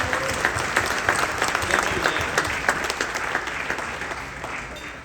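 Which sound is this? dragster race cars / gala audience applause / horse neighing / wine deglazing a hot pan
gala audience applause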